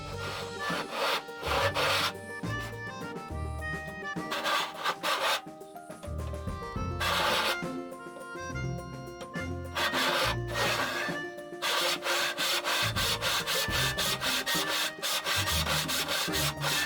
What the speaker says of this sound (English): I'm now going to cut that the traditional way.